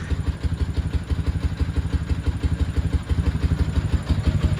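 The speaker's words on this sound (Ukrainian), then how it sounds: "покалатав він вже минут 3-4, мабуть, вже без проблем працює на холостих" A Dnepr motorcycle engine idles steadily in frosty weather after a cold start, its low, even chugging beat running throughout with a slight mechanical clatter and no voices.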